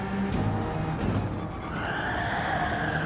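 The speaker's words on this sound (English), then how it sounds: "I'm really shredding them tyres" Tyres squealing and skidding under hard cornering in Gran Turismo 7 during a daily online race in Australia, with the car's engine droning underneath and the screech rising toward the end.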